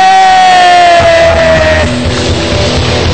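A crowd at a marketing seminar in Indonesia yells and whoops, a loud, dense burst of voices that opens with one high sustained shout and then fades into a rumbling roar.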